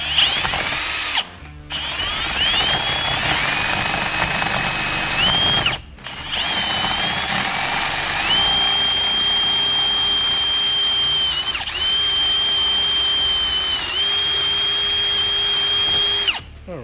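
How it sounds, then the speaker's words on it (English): A power drill whirs steadily in several long runs, its pitch dipping as the bit bites, with brief pauses between bursts; close and loud. "I'm gonna make a hole with my bit and my drill"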